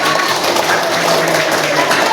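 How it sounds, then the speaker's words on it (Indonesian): Audience applause at a teachers' coaching workshop on academic supervision: dense, steady clapping from a group, loud and continuous for the whole moment, with no one speaking over it. "Oke, tepuk tangan untuk kalian semua"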